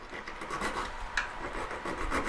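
Rasping strokes of a hand file worked against a model tree branch, rough back-and-forth rubbing repeated several times in quick succession, close up and alone.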